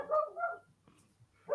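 A dog lets out a couple of close, moderately loud barks or yips with a whining tone, goes quiet for a moment, then starts barking again at the end.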